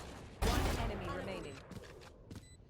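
A single loud gunshot in a Valorant match cracks out near the start and decays, followed by fainter clicks and a caster talking underneath.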